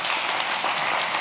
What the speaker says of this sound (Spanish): Y dale un aplauso bien fuerte a Dios.